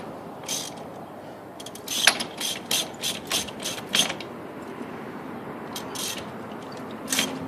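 A ratchet wrench turns the lug nut on a wheelchair wheel, giving rapid bursts of crisp mechanical clicks. The clicks come in quick strokes at moderate volume with no talking.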